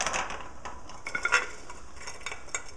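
Washed clams are dropped into a cooking pot for a simple seafood stew, giving a series of close, sharp clinks and rattles of shells against metal, with light sizzling underneath.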